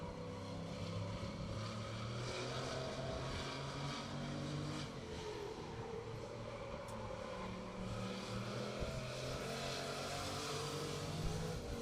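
A race car engine drones steadily on a qualifying lap, a faint, distant hum with shifting pitch throughout, heard alone without talk.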